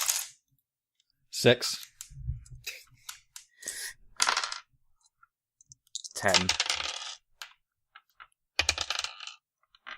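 Dice dropped and rolling on a table during a tabletop role-playing session, a few sharp clattering rattles in separate bursts, close and loud, with a voice briefly calling out numbers between them.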